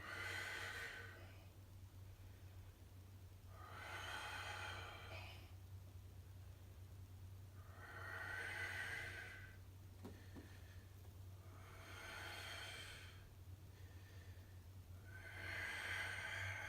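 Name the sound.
deep breathing during a yoga warrior pose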